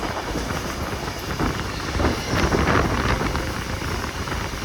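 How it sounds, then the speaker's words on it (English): A train rolls past at a heritage railway expo near Rockdale, a continuous rumble and rattle of wheels with wind buffeting the microphone, swelling slightly midway. "there's another train coming past"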